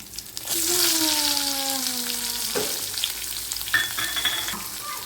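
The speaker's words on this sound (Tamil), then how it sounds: "அடுத்தது வெங்காயத்தை போடணும் ஃபுல்லாக கொட்டிடுவேன்" Onions tipped into a hot pan for egg gravy start sizzling loudly at once, a steady close frying hiss with stirring scrapes and a short pouring whine.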